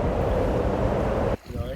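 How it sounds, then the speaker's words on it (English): Wind rushes steadily through trees beside a shore where waves lap, making a broad, fairly loud outdoor wash that breaks off abruptly near the end and leaves a faint rustle. "Well, I can hear the wind in the trees."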